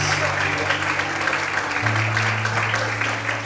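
A church congregation claps in dense, steady applause during worship, with a low hum and voices mixed in underneath.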